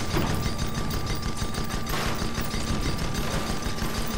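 Dense video game gunfire during a ship battle, rapid overlapping shots and cannon-like bursts rattling continuously at close range with a few heavier booms and no gaps.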